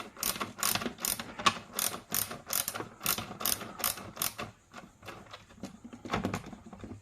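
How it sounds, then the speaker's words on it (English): Ratcheting clicks from a bar being tightened on a ULRICE 757 bullpup kit, a quick run of sharp, close mechanical clicks in steady bursts that pause briefly and resume near the end. "So you can move the bar up and down as you tighten it."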